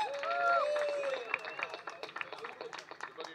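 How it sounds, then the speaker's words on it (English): Audience applause at a photography awards ceremony in Mumbai: a steady, dense crowd clapping that carries on through the moment, mixed with voices and chatter. "Loud round of applause, please."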